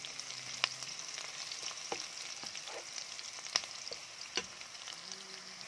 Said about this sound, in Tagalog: Gusto igisa natin maigi